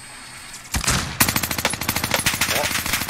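Video game gunfire inside a prison: one loud shot, then sustained rapid bursts of automatic fire close by, with no talk over it.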